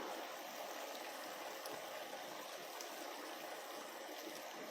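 Masala mixed in water poured into a pan in a home kitchen, giving a steady, faint watery pouring and trickling sound that runs continuously without pause.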